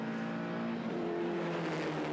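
Porsche 944 race cars racing at Winton circuit, engines droning and revving close by as they pass, a continuous mechanical roar with shifting pitch and no talk over it.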